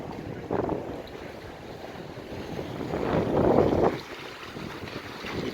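Cold wind gusts roar across the microphone in a low, rumbling rush at Issyk-Kul lake, Cholpon-Ata, Kyrgyzstan, swelling louder midway before easing, with an open outdoor feel and no talking.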